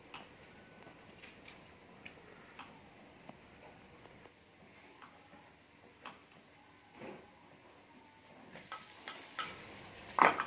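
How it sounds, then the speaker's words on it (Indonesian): Green beans are stir-fried and tempeh is fried in a home kitchen, with faint sizzling under scattered clinks and scrapes of a utensil against the pan, growing louder toward the end. "Kali ini aku masak tumis kacang sama tempe goreng"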